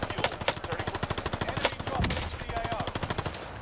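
Rapid automatic gunfire in Call of Duty: Warzone, a dense run of close, loud shots in quick rhythm with a few heavier cracks mixed in.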